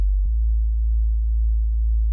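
A low, steady synth bass tone, a pure sine-like hum for a wobbly bass patch, sustains alone at an even level with only a tiny LFO movement and no clear wobble.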